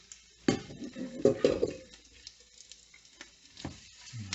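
Hootsla, an eggy bread dish, frying in a pan: soft sizzling under scattered scraping and clinks as pieces are spread and moved across the pan, with no talk.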